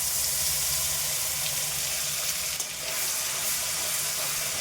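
Ground spice paste hits hot oil tempered with nigella seeds for a hilsa fish curry, making a loud, continuous hissing sizzle that holds steady with only a momentary dip partway through.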